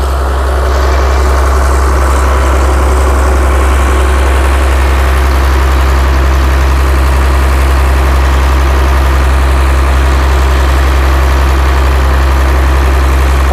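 A large-pipe water pump engine idles steadily while draining water, a loud, constant low drone with a deep rumble, unbroken and without any voices.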